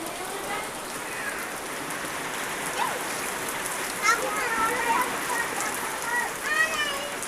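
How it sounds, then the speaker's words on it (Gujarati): Rain starts falling during a stormy spell after days of downpour, a steady close patter of drops striking surfaces with occasional louder splashes, while faint voices sound in the background. "વરસાદ ચાલુ થઈ ગયો."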